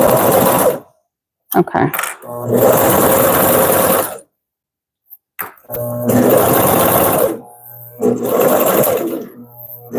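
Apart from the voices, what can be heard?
Consew CP206RL portable walking foot sewing machine stitching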